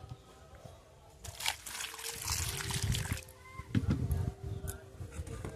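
Four raw mangoes, muddy from falling into a pond, are washed by hand in water, with splashing and trickling swells, close and fairly loud after a quiet start.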